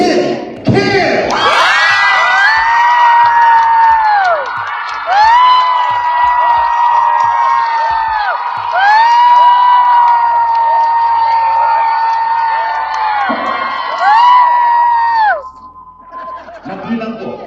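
A crowd of fans at a Love KimPau world tour event at Anaheim GardenWalk, California, cheers loudly and steadily in rising and falling whoops for about fifteen seconds during a vote, then quickly dies down.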